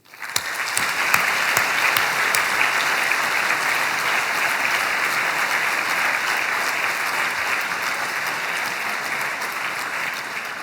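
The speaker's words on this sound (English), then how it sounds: "please give them a big round of applause" A large audience at a university graduation ceremony gives a sustained round of applause, steady and even throughout, with faint crowd murmur beneath.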